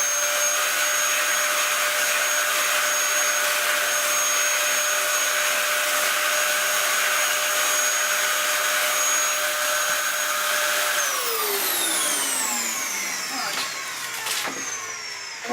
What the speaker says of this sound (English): Once again, vacuum it off, make sure there's no dust on it.